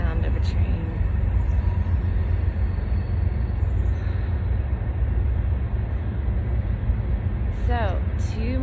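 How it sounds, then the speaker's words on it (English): A distant train rumbles past near the Smith River in December, a steady low drone lasting throughout, faint and far off, with a person talking quietly over it. "I love the sound of a train."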